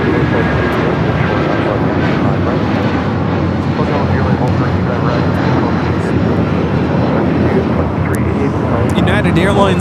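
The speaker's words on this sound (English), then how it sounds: "United Airlines 1939 taking off to Newark on the 757-200." A United Airlines Boeing 757-200 bound for Newark takes off at LAX with a loud, continuous engine roar, while people talk over it throughout.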